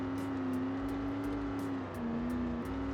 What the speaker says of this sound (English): the engine that's in here, it reminds me of a tank. It reminds me how a tank sounds at like low speeds